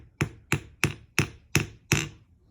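A light hammer bangs on wire: six sharp metallic strikes land in a steady, evenly spaced rhythm, close and loud, each ringing briefly before the next.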